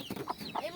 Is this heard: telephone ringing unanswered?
no